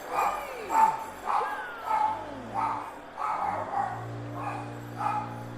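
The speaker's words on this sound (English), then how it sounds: "I don't mind them barking a couple times" A dog barks repeatedly outside in a steady series of sharp yips at moderate distance, while a low tonal hum runs underneath.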